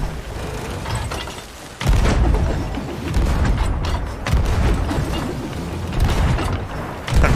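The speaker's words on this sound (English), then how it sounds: "I'm gonna shoot cannonballs" Ship cannons firing cannonballs in the pirate game Sea of Thieves, several loud, deep booms landing every second or so over a continuous rumble of sea and game noise.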